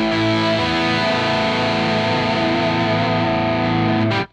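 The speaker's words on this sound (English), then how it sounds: "Let's bring the chorus in." Sustained electric guitar chord through the ML Lab Amped ML Plexi amp simulator with a shimmering, swirling chorus effect, ringing evenly for about four seconds before cutting off.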